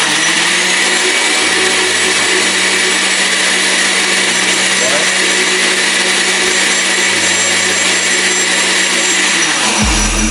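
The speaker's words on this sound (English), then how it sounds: "This is an Oster blender." A 700-watt Oster blender runs steadily at close range for about ten seconds, a loud, dense whirring motor roar with slight shifts in pitch before it cuts off at the very end.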